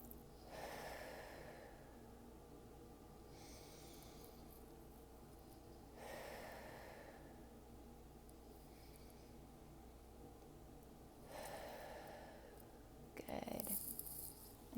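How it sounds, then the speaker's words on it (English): Slow, deep breaths drawn in through the nose and let out through the mouth during a guided relaxation exercise, three soft, drawn-out swells spaced several seconds apart, faint and close with nothing else around them. "take in 3 deep breaths in your nose and out your mouth"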